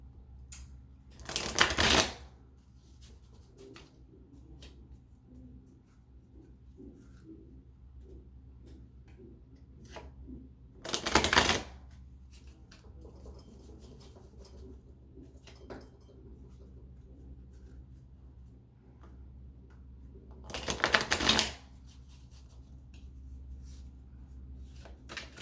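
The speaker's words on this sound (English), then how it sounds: "I have to be careful with when I'm shuffling them" Tarot cards shuffled in three quick riffle bursts, spaced far apart, with quiet room tone and faint ticking between them.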